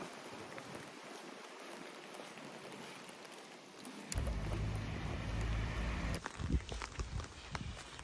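Steady rain patters in a continuous hiss, joined partway through by a low rumble and heavier splashing, with no voices.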